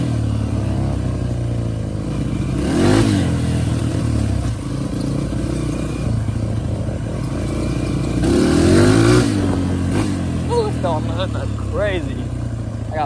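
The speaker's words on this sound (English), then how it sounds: "I spun mud all over Calvin." A Honda CRF150F dirt bike engine revs in mud, rising and falling in two louder surges with clattering mechanical noise, heard close alongside someone talking.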